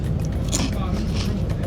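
Crinkle-cut Brazilian Cheetos crunched between the teeth up close, giving a dense, continuous crackle of chewing with a couple of sharper bites.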